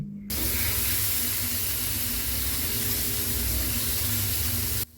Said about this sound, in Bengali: এবার আমি চিংড়ি মাছগুলো ঢেলে দিচ্ছি